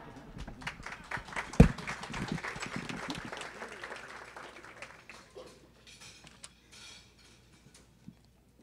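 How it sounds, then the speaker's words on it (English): Audience at a South Florida community organization gala applauding an honoree on stage, a moderate burst of clapping that swells early and then tapers off to scattered claps. "Let's give him a round of applause, please."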